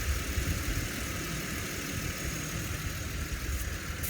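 A 1967 Ford F250 camper special engine idles on a rigged-up carburetor, a low, steady rumble that holds evenly throughout at moderate level with no voices.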